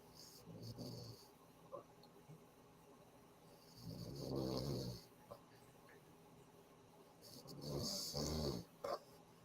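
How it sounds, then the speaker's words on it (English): A person snores in deep, raspy breaths, two long rumbling inhalations several seconds apart with a quieter gap between, faint and muffled in the background. "Is somebody snoring?"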